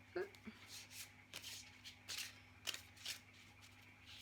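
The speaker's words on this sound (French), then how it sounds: "Alors on va commencer par le tirage de cartes en début de voyage" Oracle cards being shuffled and drawn for a tarot-style reading: a run of soft papery riffles and flicks spread across a few seconds, with a short thump near the start, fairly close and quiet.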